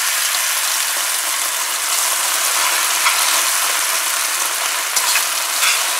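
Sauce hits a hot pan of garlic and vegetable stir fry, giving a loud, close, continuous hiss and crackle with small scraping clicks from stirring.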